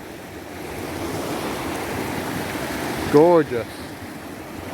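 Stream water flowing beneath a footbridge on a North Devon coastal walk makes a steady broadband rush with wind across the microphone, and a brief spoken exclamation breaks in near the end.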